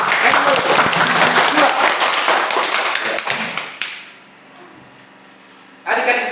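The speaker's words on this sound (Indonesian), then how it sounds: "Tepuk tangan untuk kalian semua." Children in a classroom clap their hands in a dense, lively burst of applause that fades out midway, followed by quiet and then a sudden loud return of clapping.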